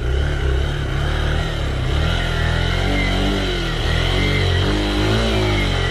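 A motorcycle strains in first gear on a nearly impassable muddy dirt road, its rear wheel spinning as the engine drones loudly and steadily with a rough pulsing throb throughout, no voices.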